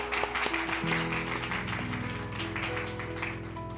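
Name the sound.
applause welcoming guests in a church service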